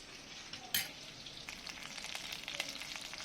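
Fish pieces fry in a pan for a Kolkata-style fish curry, giving a soft, continuous sizzle with a sharp clatter near the start and a slowly building crackle.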